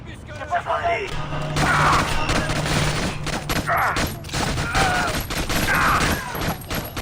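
Bursts of gunfire crack through the co-op video game Splinter Cell Conviction, dense and sharp, while players talk over the shooting.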